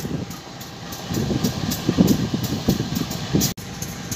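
A CC 201 diesel locomotive at Perbaungan station gives off a rumbling, pulsing engine drone with uneven surges, heard nearby, ending with a sharp clunk.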